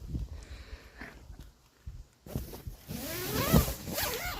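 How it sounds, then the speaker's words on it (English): A sleeping bag zipper rasps open or closed close by, a quick scratchy pull in the second half of the clip after a few quiet rustles. "Very smooth, the zippers."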